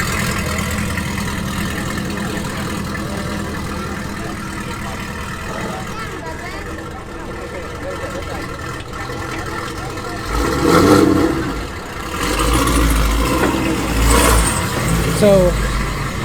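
A Texaco Camaro race car idles with a rough, uneven burble, then revs up in a few louder bursts near the end while people talk nearby.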